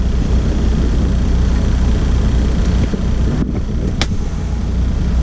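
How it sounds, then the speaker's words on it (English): A truck's heater fan blows on high through the defrost vents onto the windshield, a steady loud broadband rush with no talk, briefly interrupted by a faint click near the end. "Turn your fan all the way on high. My defroster is working. It's blowing on the windshield."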